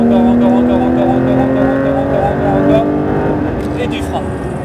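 A Porsche GT3 RS on the Le Mans circuit holds a loud, steady engine roar with a rising pitch as it keeps accelerating, close and dominant throughout, while an instructor speaks in French over it.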